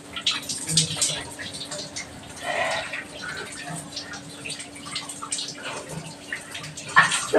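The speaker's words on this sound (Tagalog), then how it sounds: "Ang lakas ang tubig." Water from a newly installed shower runs and splashes in a bathroom, heard at close range, with someone talking over the flow now and then.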